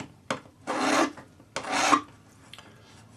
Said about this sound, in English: use your number 2 cut flat hand file to tidy up your marks